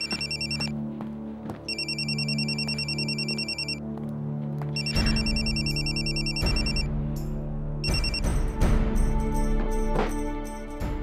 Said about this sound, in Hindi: मैंने सुना मेरा फोन बज रहा है